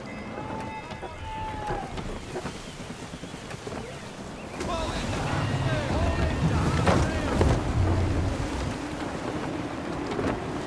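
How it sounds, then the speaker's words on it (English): Gusty wind rushes steadily while sailing a ship at sea in Assassin's Creed III, mixed with creaking hull, water wash and faint distant voices, growing louder and fuller partway through. "Gusty winds can be difficult to manage."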